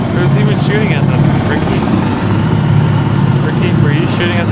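Helicopter rotor and engine drone in the co-op shooter Insurgency Sandstorm, a steady loud hum running throughout under voices talking over the game.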